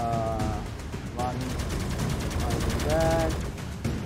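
Rapid automatic gunfire in the video game Dysmantle, a dense continuous rattle of shots running the whole stretch, loud and close, with tonal game effects rising at moments and a voice briefly in the mix.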